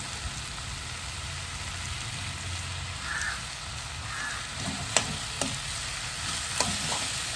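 Tomatoes sauté in a pan for a drumstick curry, a constant close frying sizzle with a few sharp spoon taps and scrapes near the end.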